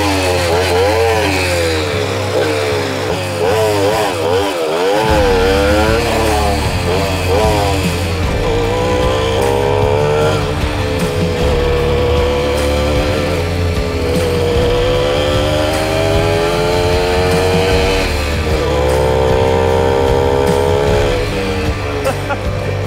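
A tuned Sachs moped engine with original cylinder, ridden up and down: after a short idle, the two-stroke buzzes loudly and continuously, rising and falling in pitch with each rev, close and dominant throughout.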